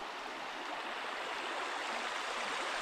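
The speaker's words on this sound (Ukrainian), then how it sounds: "тільки шум гірської річки" A snowy high-mountain river rushing steadily nearby, a constant full hiss of flowing water with no pauses and no voices.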